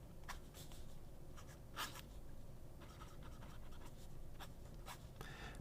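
Fine flex nib of an Aurora Optima Flex fountain pen writing on paper, giving soft intermittent scratchy strokes close up over a steady background hiss.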